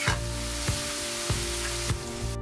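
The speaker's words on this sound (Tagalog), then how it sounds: "Maglagay tayo ng konting mantika dito sa kawali para igisa natin ang hiniwang sibuyas ng ilang segundo o hanggang malambot na ito." Sliced onion sautés in oil in a pan for a fish steak dish, a steady close sizzle with a few soft stirring scrapes spaced through it, no voices.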